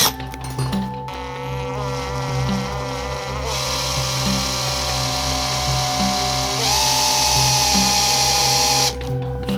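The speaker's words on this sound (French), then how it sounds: "Maintenant je vais commencer à percer." A power drill bores a hole on a sailboat, a steady loud motor whine held for several seconds that shifts pitch as it bites into the material, close up with no speech.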